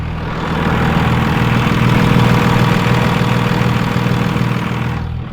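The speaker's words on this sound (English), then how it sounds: "And the truck is running." A Cummins diesel truck engine idles steadily just after starting, giving a loud, continuous low rumble with faint mechanical vibration throughout and no talking.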